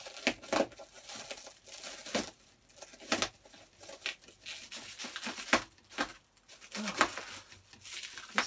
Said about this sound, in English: let's go ahead and let's just cut this thing open.